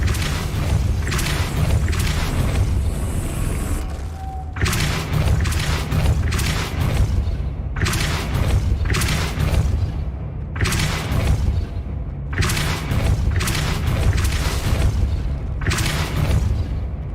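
The Depulso force spell in the video game Hogwarts Legacy fires again and again as loud, heavy booming blasts, around six bursts in close succession with short gaps between them.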